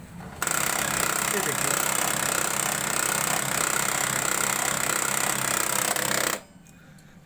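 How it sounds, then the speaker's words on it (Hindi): An HP printer switched on runs its gear mechanism with a fault giving distorted, bad sound, where the rear gear fails to turn. A loud, steady mechanical whirring and grinding lasts about six seconds, then stops abruptly, with a brief voice nearby. "देखिए अब ये वाली गियर तो चलता है लेकिन जो पीछे उसके और पीछे में जो गियर है वो नहीं चल पा रहा है।"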